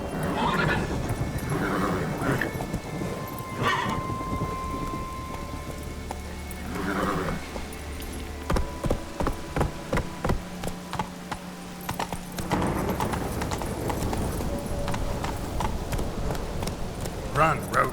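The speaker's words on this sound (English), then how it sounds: "Run, Roach" Galloping and clip-clop hooves of a horse in The Witcher 3, with a whinny and neigh, steady hoofbeats under game music and ambience, a voice speaking briefly.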